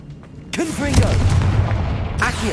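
A Confringo blasting spell goes off in Hogwarts Legacy: a sudden loud burst that swells into a sustained, roaring explosive rumble with crackling debris, cut off abruptly near the end, with game effects layered over it.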